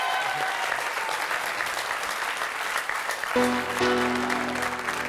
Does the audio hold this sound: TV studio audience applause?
yes